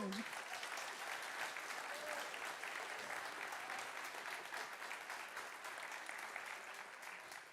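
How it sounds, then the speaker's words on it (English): A workshop audience at a project management event applauds steadily in a room. The sustained clapping is fairly soft and continues evenly throughout before tapering slightly at the end. "so a big applause to him"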